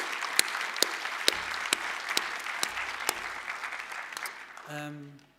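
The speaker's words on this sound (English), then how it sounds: "they also deserve an applause" Audience applauding at a university law bachelor graduation ceremony, a steady wash of clapping with sharp individual claps standing out, fading toward the end as a low tone enters.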